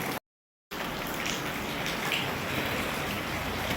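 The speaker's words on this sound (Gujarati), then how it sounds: "વરસાદે જો ધીમું ધીમું એનું કામ બધું ચાલુ રાખ્યું છે ટપક ટપક ટપક છાટા પડ્યા જ રાખે છે" Light rain patters steadily with soft, continuous dripping close by, after a brief moment of silence at the start.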